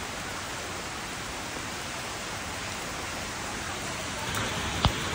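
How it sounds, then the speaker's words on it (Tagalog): Heavy rain pours steadily outside a house, a dense unbroken hiss with one sharp tap near the end. "Ang lakas ng ulan"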